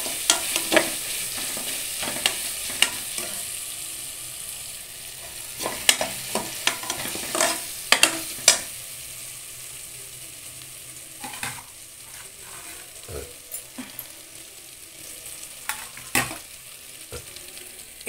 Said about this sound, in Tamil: இஞ்சி பூண்டு பேஸ்ட் வந்து நல்லா வதங்கணும்.